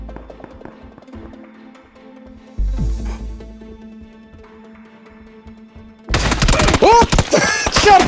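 Gunfire in PUBG, a burst of shots crashing in loudly near the end after quieter in-game ambience and scattered small taps.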